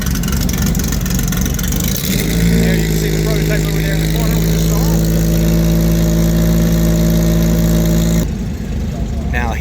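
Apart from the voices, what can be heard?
Porsche 911 engine idling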